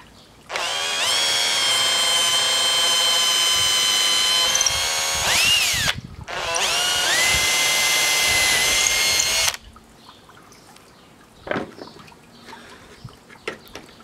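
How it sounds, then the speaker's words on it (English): A power drill whines loudly in two long sustained bursts drilling through bamboo, with a brief pause between, then stops, leaving faint scattered knocks and rustles. "When you're drilling through something really solid"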